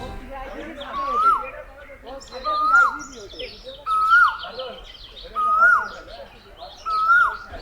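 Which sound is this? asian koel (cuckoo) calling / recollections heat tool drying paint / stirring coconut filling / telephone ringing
asian koel (cuckoo) calling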